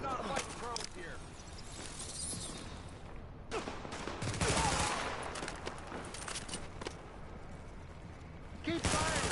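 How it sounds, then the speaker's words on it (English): Sustained automatic gunfire from a firefight in the video game The Division, dense bursts rattling almost continuously with brief lulls, loud and close, with shouted voices mixed in. "Keep firing!"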